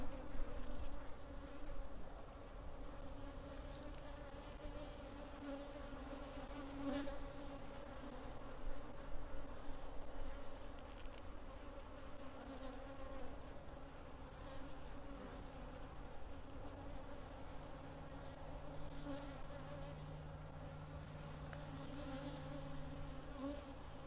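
Honeybees buzz around an open hive that is being split and may be getting ready to swarm, a continuous, even drone with no talk throughout.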